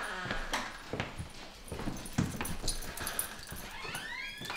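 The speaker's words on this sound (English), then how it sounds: "That your dog?" A dog whimpers and yips in a short run of high, thin cries, with some sliding upward whines near the end, close by over light background noise.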